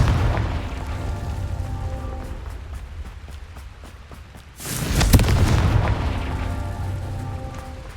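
A Confringo blasting spell goes off in Hogwarts Legacy: a steady hiss gives way to one loud, close, booming burst about midway, with a crackling roar that lingers to the end.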